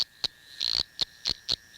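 Sloane's froglet, a tiny frog, calls in a series of short, high-pitched chirping pips with one longer note, evenly spaced and close against a quiet night background.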